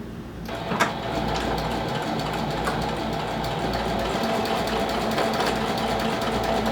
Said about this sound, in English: We're going to sew all the way around using a 1/8 inch seam allowance.